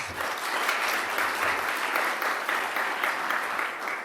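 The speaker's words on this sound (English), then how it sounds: "So big round of applause to Rich." Conference attendees at the Financial Inclusion Alliance Summit 2020 give a steady round of applause, with a continuous, even patter of clapping at moderate volume and no talking.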